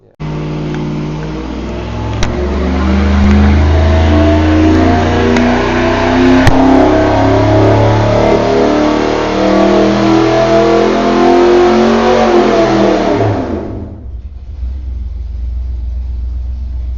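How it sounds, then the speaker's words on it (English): A 350 small-block engine fitted with vintage 292 GM heads roars loud and steady as it revs on a dyno for about thirteen seconds, then cuts off abruptly, leaving only a low background rumble. "We're gonna have to rev it up some more."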